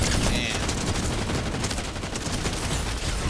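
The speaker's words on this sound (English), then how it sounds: "my shotgun took forever to shoot" Continuous loud gunfire from a Fortnite match fills the whole stretch in dense, overlapping cracks and booms without a clear gap. The shotgun is among them.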